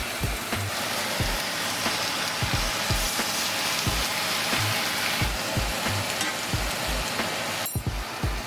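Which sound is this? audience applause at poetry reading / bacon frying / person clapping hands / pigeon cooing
bacon frying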